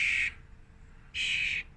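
A baby bird squawks twice in loud, harsh bursts about a second apart, each lasting roughly a quarter to half a second, with quiet in between and no talking.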